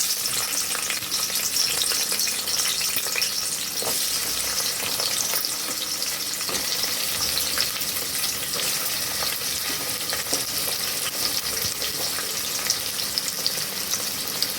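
Onions sizzle and fry steadily in hot oil in a pan for a goat head curry, a continuous dense crackle with occasional stirring, close and alone without talk.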